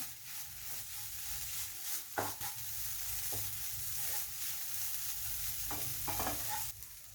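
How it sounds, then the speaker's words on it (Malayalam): Egg cooks in a pan over high flame with a continuous soft sizzle and occasional scrapes and taps of a spatula stirring, fairly quiet and close, with no speech. "നമ്മുടെ ഹൈ ഫ്ലെയിമിൽ വെച്ച് തന്നെ കുക്ക് ചെയ്യാം"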